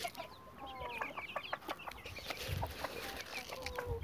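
Soft clucking from a hen mixed with high, thin chick peeps, fairly faint and steady, with a few overlapping calls and no speech.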